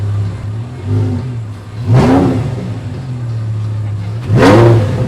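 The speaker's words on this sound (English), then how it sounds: "can give it a little bit of revs if you want." A supercar engine revs twice on a Los Angeles street, each burst rising sharply in pitch and then falling back to a steady idle between them, loud and close.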